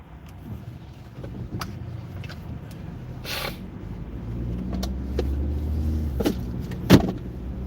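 A 2024 Chevrolet Equinox driving in traffic, with steady low road and engine rumble throughout, a few light clicks and rattles from the cabin, and a brief sharper knock near the end.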